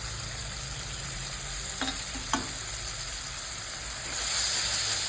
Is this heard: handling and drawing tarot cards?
no